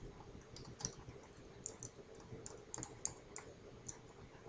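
Keys tapped on a computer keyboard while entering text into an Excel spreadsheet, a faint, uneven run of soft clicks with short pauses, no talking.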